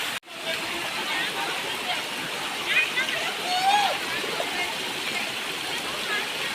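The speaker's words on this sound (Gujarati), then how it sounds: "પાછળ વરસાદને લીધે ધોધનો પ્રવાહ પણ વધી ગયો છે" A waterfall swollen by monsoon rain roars steadily at Jatashankar Mahadev in Junagadh, a continuous even wash of water filling the scene, with faint voices barely mixed in.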